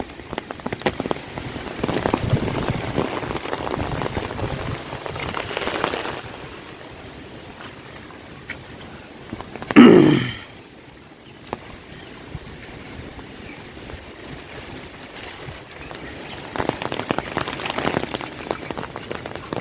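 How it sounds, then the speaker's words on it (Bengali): Heavy rain during Cyclone Remal in a flooded rural area with broken banana trees, a steady hiss of rain on surfaces and water, with a brief louder burst midway and the downpour swelling again near the end. "জমিটা এত বৃষ্টি হয়েছে, চারিদিকে জল জমে পুরো মনে হচ্ছে পুকুর হয়ে গেছে"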